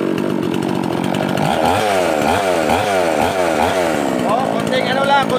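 A small two-stroke mini chainsaw engine runs loudly up close during carburetor tuning, its pitch rising and falling in repeated revving surges while a voice talks over it.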